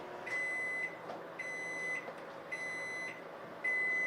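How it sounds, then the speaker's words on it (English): A microwave hums along while a repeated electronic beep tone sounds four times at regular intervals, each lasting about half a second. "while the water is warming up in the microwave"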